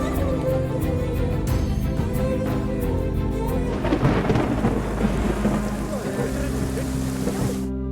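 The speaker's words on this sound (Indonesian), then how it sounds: "hujan mulai turun deras dan terpaksa berhenti" Heavy rain pours down with rolling thunder in a film scene, a loud dense downpour with deep rumbles building through the middle and fading near the end.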